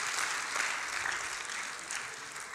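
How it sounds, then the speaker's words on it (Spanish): Sustained clapping from a worship congregation at an evangelistic meeting, a full, steady wash of many hands that swells slightly and holds. "Aprecio tanto los aplausos."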